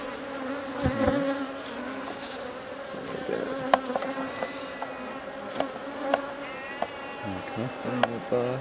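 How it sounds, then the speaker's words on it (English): Bees buzz around an open hive box as wooden bars are set in place, a steady close drone with individual insects whining past and occasional light knocks of wood. "Let those bees go behind it."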